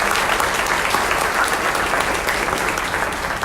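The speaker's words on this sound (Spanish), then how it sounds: "a quien con un fuerte aplauso" Steady, dense applause from a conference audience welcoming a doctor onto the panel at a Day of the Dead lecture, loud and unbroken throughout without a voice over it.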